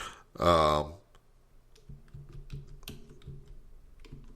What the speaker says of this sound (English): But I'm typing it in now.